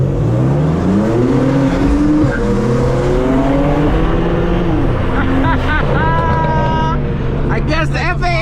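A manual BMW F80 M3 accelerates hard on a night drive, its engine note rising through the gears in loud, close cabin sound, with a shift and more climbing revs toward the end.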